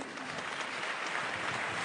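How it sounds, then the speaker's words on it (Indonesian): Studio audience applause on an Indonesian television talk show, a steady dense wash of clapping that fills the whole moment with no break. "Boleh tepuk tangan, Dahlan Iskan"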